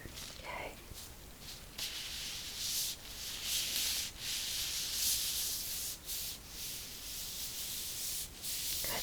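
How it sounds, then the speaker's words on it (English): Soft rubbing strokes simulating a stomach massage in an ASMR medical exam, a close, quiet, continuous brushing hiss broken by short pauses, with no talking. "I'm just going to do some rubbing to simulate the process"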